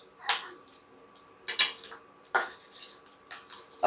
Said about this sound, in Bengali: ভালো করে নেড়েচেড়ে মিশিয়ে নেব।